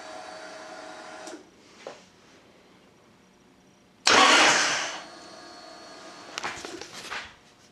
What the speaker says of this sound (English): We're gonna see if the starter will at least try to engage.